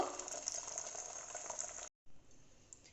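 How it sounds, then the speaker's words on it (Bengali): An egg frying in a pan gives a bright, continuous crackling sizzle close up, briefly cut by a moment of silence before the frying resumes more quietly. "এটাও ভেজে নেব"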